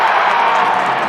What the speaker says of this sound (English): You can hear the crowd and the energy